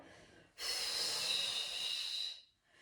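A single long, forceful exhale through the nose during a yoga core flow, a loud, close, hissing breath lasting about two seconds before fading out.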